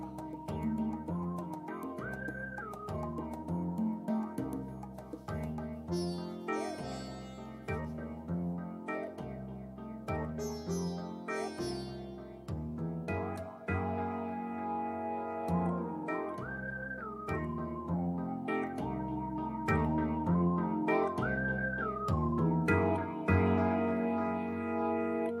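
Music tune with a whistle-like lead melody over a steady beat and echoing effects, playing at moderate volume with no voices.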